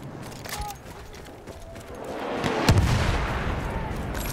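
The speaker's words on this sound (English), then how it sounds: "Wait for the enemy artillery barrage to stop firing" Battlefield 1 enemy artillery barrage on a World War I battlefield, heavy booms and scattered shots building toward a loud impact near the end, with faint game voices underneath.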